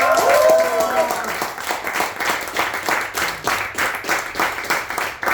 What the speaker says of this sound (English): big round of applause for all the improvisers in the house